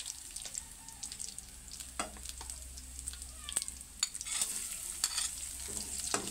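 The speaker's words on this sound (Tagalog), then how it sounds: "igigisa natin yung ating bawang at sibuyas" Garlic and onion sauté in oil in a pan, a soft continuous sizzle under intermittent sharp scrapes and taps of a spatula, fairly quiet and close with no talking.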